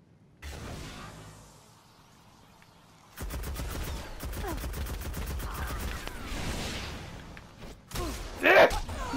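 Rapid, repeated sniper and automatic gunfire in the shooter game Destiny, volleys of sharp cracks crowding together for several seconds after a quieter opening, with a louder burst near the end.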